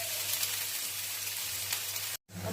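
Food fries in a pan in a home kitchen before ginger-garlic paste goes in, making a loud, continuous close sizzle with scattered pops, broken by a brief silent gap near the end.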